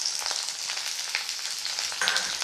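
Peeled, chopped ginger fries in hot oil for pirandai chutney, giving a steady, close sizzle with soft crackles and a brief louder spurt near the end.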